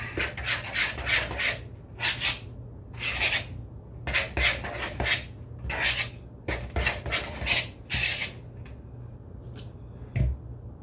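Pretzel dough is worked with a spoon in a bowl, making repeated rough, scraping strokes in uneven bursts with short pauses between them, close and fairly loud, with no speech.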